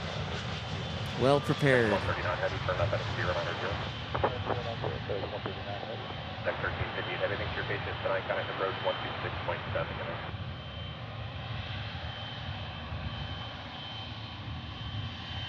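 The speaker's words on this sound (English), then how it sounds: "Just like the 757 that's landing right now." A Boeing 757 jet landing at Memphis International Airport roars steadily in the distance as a loud, sustained engine rumble while someone talks over it.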